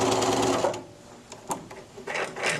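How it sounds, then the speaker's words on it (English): Sewing machine back stitching at the end of a seam on a cuffed pillowcase, a short close whir that stops, then brief bursts of stitching and a final run, with no speech. "when you get to the end, make sure you back stitch there as well."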